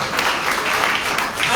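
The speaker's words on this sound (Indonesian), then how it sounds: "Tepuk tangan lebih baik bagi Allah kita." Church congregation during a sermon gives a burst of loud, dense applause, steady and full for the whole moment.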